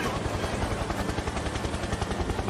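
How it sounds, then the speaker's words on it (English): A helicopter enemy in the Kirby and the Forgotten Land video game whirs with rapid, steady rotor chopping, loud and close and sustained, with a voice speaking over it. "Helicopter, helicopter!"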